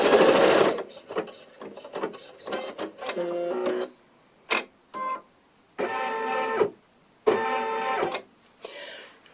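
Embroidery machine stitching an in-the-hoop coaster, giving close, rapid mechanical bursts of stitching separated by short pauses, with no voices.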